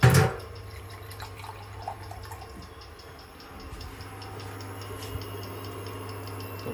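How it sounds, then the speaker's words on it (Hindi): Water is added to puppy food kibble in a cooking pot, starting with a brief loud splash of pouring, then settling into faint trickling and soft dripping at close range. "तो पानी ऐड कर दिया ताकि ये आपके जो दाने हैं फूड के ये थोड़े भीग जाएं"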